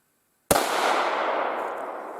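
A single loud gunshot from a Los-7-1 hunting rifle cracks sharply, then a long booming echo rolls away and slowly fades.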